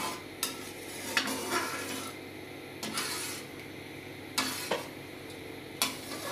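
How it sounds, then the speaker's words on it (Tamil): Wheat halwa is stirred with ghee in a pan: a utensil scrapes and clatters against the metal in repeated strokes over a soft sizzle, close and clear with no talking. "அதனால் இப்படி கிண்டிக்கிட்டே இருக்கணும்"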